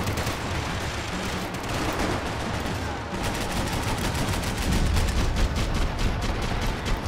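Rapid, dense gunfire rattles through a Max Payne 3 shootout, bursts of shots overlapping almost continuously and growing slightly louder toward the end, with no voices over it.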